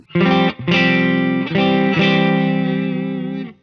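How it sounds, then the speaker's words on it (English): A distorted electric guitar through a JHS NOTADÜMBLË pedal plays sustained chords with a warm, gritty amp-like breakup, loud and close, with a short pause after the first strum. "It definitely sounds more like an amp that is about to break up"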